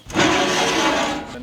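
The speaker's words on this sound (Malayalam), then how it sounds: "തേങ്ങയിൽ തന്നെ കുറച്ച് പട്ട, കുറച്ച് ഗ്രാമ്പു, കുറച്ച് ഏലക്കായ, ഇത് നമുക്ക് അരച്ചെടുക്കണം." A mixer grinder blending grated coconut with cinnamon, cloves and cardamom into a paste for village-style chicken porridge, a loud steady whirring drone running the whole brief moment before tapering off at the end.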